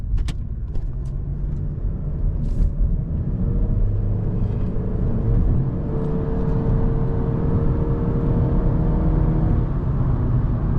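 A 2021 Honda Civic in sport mode gives a steady, loud engine rumble and road roar from inside the cabin, building gently as it accelerates, with no talking.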